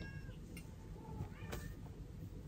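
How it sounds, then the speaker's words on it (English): A cat meows from outside a room, wanting to be let in, giving a few faint, short, muffled meows that sit low under steady background hiss. "one of my cats is trying to get in. He's meowing at me."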